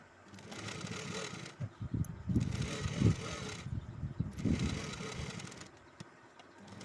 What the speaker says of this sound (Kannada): ಈಗ ಅದು ಸುತ್ತ ಕೂಡ ನಾವು ಸ್ಟಿಚ್ ಹಾಕಬೇಕು.